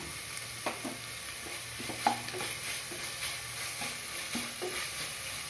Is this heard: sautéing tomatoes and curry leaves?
yes